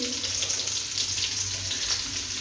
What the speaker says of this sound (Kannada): ಇವನ್ನ ಸ್ವಲ್ಪ ಕಲರ್ ಚೇಂಜ್ ಆಗೋ ತನಕ ಹುರ್ಕೋಬೇಕು